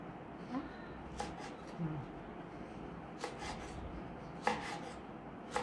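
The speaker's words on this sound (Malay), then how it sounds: "Manakala kelopak ni kita akan potong begini, memanjang." A knife slices torch ginger flower petals lengthwise, giving sharp, close cutting strokes at irregular intervals over a quiet background, with a little soft talking mixed in.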